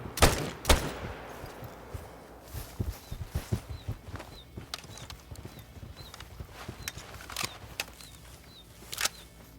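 Rifle shots at a water buffalo in theHunter: Call of the Wild: two sharp cracks open the scene, then rapid galloping hoofbeats run throughout, with another crisp shot near the end.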